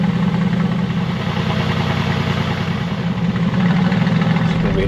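Mercedes-AMG GT S in Black Series body kit idling in race mode, a steady, loud, low engine drone with a rumbling burble that holds constant throughout, no voices.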